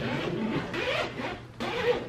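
Zipper on a BEIS travel luggage case being opened, two close, quiet zipping pulls separated by a brief pause.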